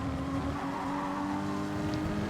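A Dodge Viper and a Porsche Cayman GT4 race cars in a racing video game at Brands Hatch GP, a loud, steady engine drone with a sustained tonal whine and no break, close and continuous.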